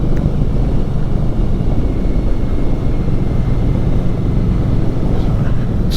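A 2018 Indian Scout Bobber motorcycle engine is pushed hard on the throttle while riding, a loud, steady low drone blended with heavy wind rush that holds evenly throughout with no breaks.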